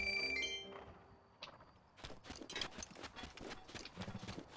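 A steady clip-clop of horse hooves at a trotting rhythm in the video game Zelda: Breath of the Wild, fairly quiet, following a brief chime-like tone at the start.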